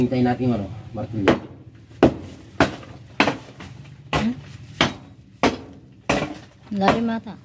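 A hammer strikes a roof in a rural Pangasinan house during a search for a cobra, about ten sharp, evenly spaced bangs under ongoing voices.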